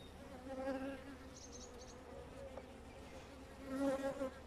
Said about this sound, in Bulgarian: Ето, старите пчели предимно, т.е. летящите.